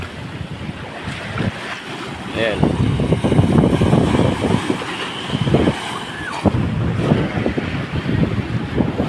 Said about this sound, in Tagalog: Napakalaki ng mga alon mga idol.